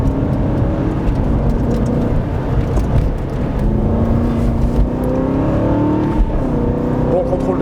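An Aston Martin Vantage V8 engine pulls steadily and loud throughout, its pitch climbing through the gears with brief shifts between, in-car and continuous.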